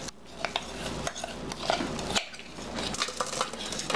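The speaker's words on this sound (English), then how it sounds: "Now we're gonna take our little springboard pan." Metal springform pan handled in a kitchen while making a pudding cake, with a series of light clinks, taps and scraping clatters at irregular intervals, fairly close and moderately quiet, no talk.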